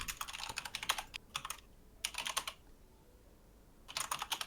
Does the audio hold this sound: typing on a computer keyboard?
yes